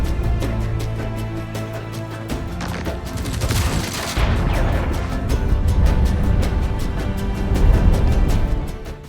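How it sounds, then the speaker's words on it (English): Rapid gunfire fills the Medal of Honor Warfighter first-person shooter battlefield, with sustained automatic bursts and booming blasts rolling together, loud and continuous from start to finish. "You can't have a first-person shooter without guns"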